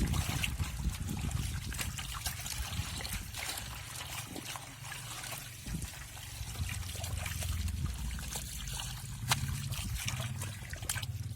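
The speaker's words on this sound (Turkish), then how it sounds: "Tekrar bir daha su koyduk üzerine." Water poured over fresh homemade butter churned from cream to rinse it, a continuous close trickle and splash that runs steadily, with faint background noise and no clear speech.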